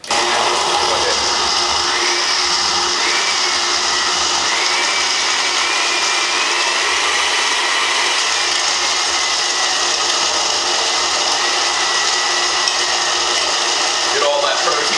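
A blender mixes a protein shake in a loud, continuous whirring drone that holds steady for the whole stretch, close by and harsh.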